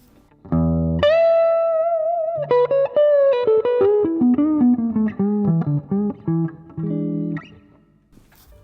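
Electric guitar played through a small practice amp with the reverb turned up, ringing single notes and chords stepping downward, each note sustaining with a reverb tail, loud and close with no talking.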